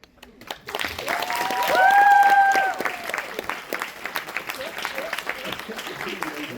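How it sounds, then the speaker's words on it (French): An audience at a cosplay contest claps steadily across the whole stretch while a voice rises over it in a sustained, sung or shouted line partway through. "À chaque fois que j'arrive, les applaudissements s'arrêtent"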